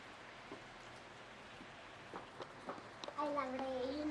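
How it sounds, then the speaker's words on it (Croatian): Heavy rain falls steadily as a soft, even hiss, with a voice and other speech breaking in near the end. "Pada luda kiša."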